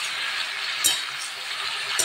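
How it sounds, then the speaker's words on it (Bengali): Onion and potato fry in a pan with turmeric, a steady bright sizzle throughout, punctuated by a couple of brief metallic clinks from a utensil against the pan. "এটা একটু ভাজা হোক, তারপর ফিরে আসবে।"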